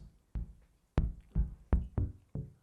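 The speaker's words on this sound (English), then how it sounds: "as I slowly roll off all the high frequencies" Modular synthesizer run through a filter that rolls off the high frequencies, sounding as a series of six short percussive plucks or thumps, dull and bass-heavy, spaced irregularly with no talk.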